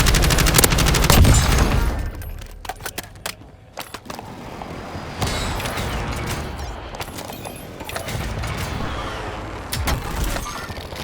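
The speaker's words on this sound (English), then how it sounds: "You want an airstrike?" Dense video game combat during an airstrike: continuous rattling gunfire and rumbling explosions fill the whole stretch, loud and close, with bursts swelling and fading without pause.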